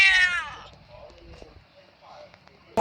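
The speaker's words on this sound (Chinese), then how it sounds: "小猫咪。" A cat meows once, loud and close, in a Miao village in the forested mountains of Guizhou, followed by quiet outdoor ambience with faint scattered sounds.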